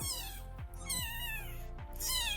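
A newborn kitten gives several thin, high-pitched meows in quick succession, close and clear, with short gaps between cries.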